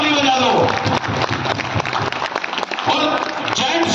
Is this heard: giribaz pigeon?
no